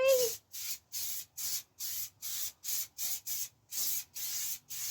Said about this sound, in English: I'll spray just a bit on the frame for you, look.